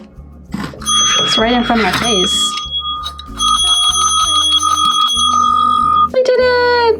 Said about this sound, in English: Oh, here's my bell.